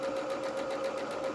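A sewing machine runs steadily as it stitches along the edge of fabric for a doll shirt, giving a close, even, rapid mechanical whir with no pauses.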